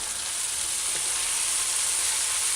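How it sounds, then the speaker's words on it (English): Floured shrimps fry in hot, lightly smoking oil with a loud, continuous, close sizzle that stays steady throughout. "Once you see a little smoke, that means the oil is hot enough. You just add your floured shrimps."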